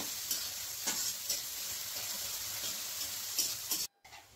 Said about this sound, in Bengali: পেঁয়াজটাকে আমি এরপর গোল্ডেন ব্রাউন করে ভেজে নেব।